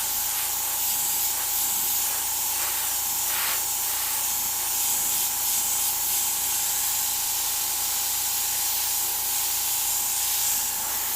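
An airbrush sprays green paint over masked artwork in a steady, unbroken hiss that stays close and even from start to finish, with only slight shifts as it passes over the surface.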